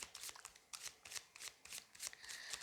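Tarot cards are shuffled up close in quick repeated riffling bursts, a crisp papery flutter with short pauses between, and no one speaking.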